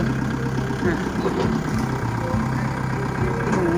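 A farm tractor engine runs in a loud, steady, rumbling idle with a thumping low chug, heard close up throughout, with some background noise.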